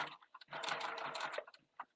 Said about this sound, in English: I'm just going to sew around these layers, getting right to the edge of that one.